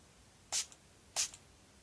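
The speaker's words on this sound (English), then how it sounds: "I just put the spray crap on my face to set it, and it feels like I just sprayed my face with water" Two quick hissing bursts of face setting spray misted onto a face, close and fairly quiet, separated by a short pause in an otherwise silent room.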